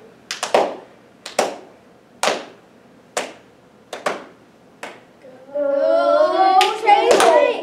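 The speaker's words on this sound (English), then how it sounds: "We're gonna do an energy clap." A group energy clap at a school event: several sharp claps spaced about a second apart, building to a burst of cheering and excited children's voices at the end.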